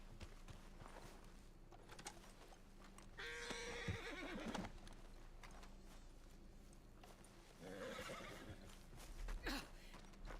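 A horse neighs loudly in Red Dead Redemption 2, a western video game, with two sharp whinnies several seconds apart over clopping hooves and clattering, close and alone without speech.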